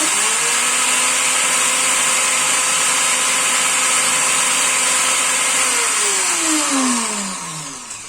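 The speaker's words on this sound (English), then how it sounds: "Now I'm gonna use this pad, put my sanding paper, and then put it flat with the valve" A steady, loud mechanical whir of a powered sanding pad polishing an engine valve runs continuously, then winds down with a falling pitch near the end.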